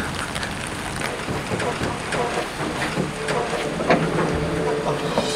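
Steady rain falls outside a winery in Kawasaki, Kanagawa, a continuous close hiss with patters and gusts of wind buffeting the microphone throughout.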